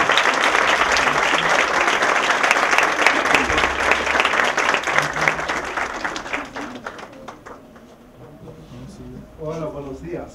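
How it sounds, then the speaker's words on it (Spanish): An audience applauds a special guest speaker at a conference on the 2016 US presidential election, a dense sustained clapping that fades out after about seven seconds before a voice begins speaking. "los invito a recibir con un cálido aplauso a nuestro invitado especial"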